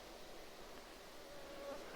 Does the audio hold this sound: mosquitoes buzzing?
yes